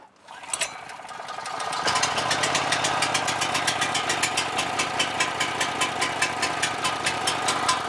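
A new portable gasoline generator is pull-started with the choke on. A short pull rattle catches into a loud, steady, close engine drone with a rapid, even pulsing knock, running alone with no talk.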